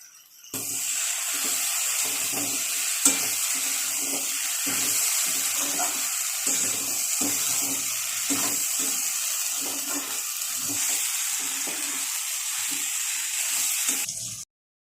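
Potatoes sizzling in a hot pan with shrimp and taro stolons, a steady crackling fry running throughout with small pops, close and fairly loud, ending abruptly.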